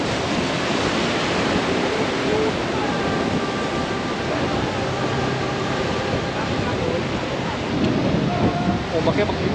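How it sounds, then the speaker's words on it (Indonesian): Ocean waves wash against a pier at a seaside glamping resort, a broad continuous roar of surf mixed with wind buffeting the microphone, loud and steady throughout. "Ombaknya begini"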